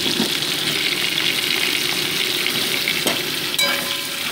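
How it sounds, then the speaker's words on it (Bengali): Potato pieces fry in hot oil with whole cumin seeds for a light cauliflower curry, giving a steady, close sizzle throughout, with a faint clink of utensil near the end and no talking. "তারপরে কেটে রাখা আলুর টুকরোগুলোকে অ্যাড করে দিচ্ছি, দিয়ে মোটামুটি এটাকে 2 মিনিট করে ভেজে নিচ্ছি"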